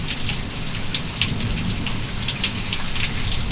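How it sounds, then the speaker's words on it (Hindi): Heavy nighttime rain falls steadily in Jim Corbett National Park at Dhikala, a dense, loud, even hiss of drops hitting surfaces with no pauses and no voices. "बारिश भी थोड़ी सी कम हो गई है"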